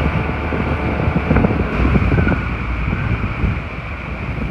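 A 40hp Tohatsu outboard motor idling along at about 2,000 RPM on a Mirrocraft 167 Troller boat, a steady low hum mixed with wind buffeting and water noise, with no talk.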